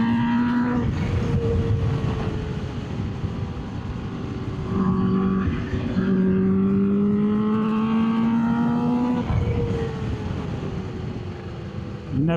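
A Kawasaki Ninja H2 big bike ridden at speed, its engine droning steadily with rising and falling pitch as it accelerates and eases off, loud and close with heavy wind rush throughout.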